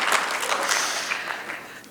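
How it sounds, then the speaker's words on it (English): An audience at a United Nations conference town hall in a large chamber claps for about two seconds, a dense burst that fades slowly toward the end. "Round of applause, please."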